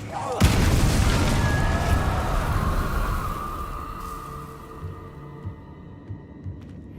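A Confringo spell in Hogwarts Legacy detonates with a sudden loud boom near the start, followed by a long rumbling, fading decay with faint ringing tones over several seconds.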